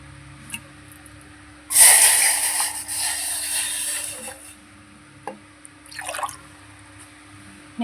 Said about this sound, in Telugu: అలాగే వాటర్ అయితే పోసుకుందాం.